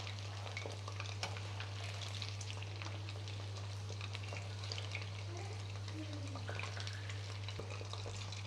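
Chicken pakoda pieces fry in hot oil with a steady, crackling sizzle full of fine pops and spits, faint and even throughout over a low constant hum.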